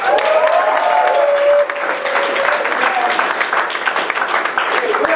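Studio audience applauding volunteers at a live stage show, a dense wash of clapping that stays loud throughout and dips slightly partway before continuing, with crowd noise and voices mixed in.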